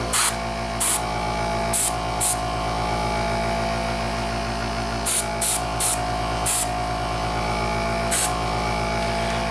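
Brownish paint misted from an airbrush over German gray on a Tamiya 1/35 Panzer II Ausf. F/G model tank: about eight short, sharp hissing bursts at irregular intervals over a steady, close compressor hum.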